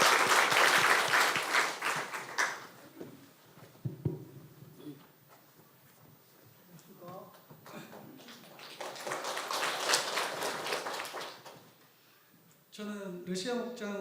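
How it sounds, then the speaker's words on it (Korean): A church congregation at a Sunday service claps, with bursts of applause swelling, fading and returning, and a voice speaks briefly in the lull near the end. "먼저 한번 박수로 격려해 주십시오."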